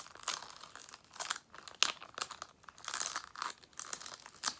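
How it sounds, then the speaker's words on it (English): Vinyl transfer tape peeled slowly off a canvas sign, giving a steady run of close crinkling, crackling and tearing bursts with no talking. "So just be gentle pulling your transfer tape off."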